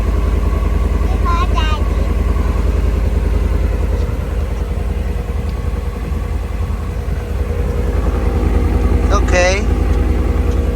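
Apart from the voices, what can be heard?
Ford Coyote 5.0 V8 engine cold start idling with new exhaust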